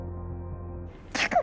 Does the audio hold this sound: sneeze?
yes